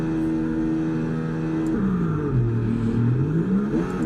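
An F1 car engine at a race start in the F1 24 video game, McLaren gameplay at Jeddah. A loud steady engine tone dips low as the car bogs down, then climbs again as it revs back up.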